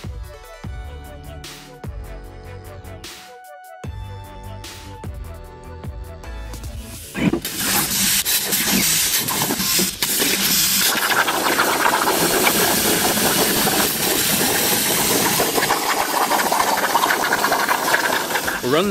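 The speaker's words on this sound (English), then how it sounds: "now we're gonna put it on the 5x10 torch mate and burn it out" A 5x10 Torchmate CNC plasma table with a 45 amp fine-cut nozzle cuts a steel part, giving a loud, steady roaring hiss that runs unbroken. It follows a few seconds of tonal music.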